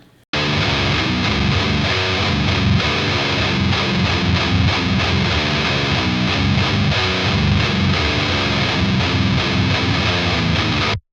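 A low-tuned, heavily distorted electric guitar through an Otto Audio amp simulator chugs through a riff, loud and continuous from start to finish.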